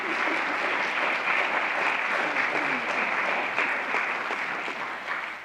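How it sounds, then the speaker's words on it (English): Steady applause from a worship meeting congregation, dense and sustained clapping throughout, tapering slightly at the end. "please do applaud for them"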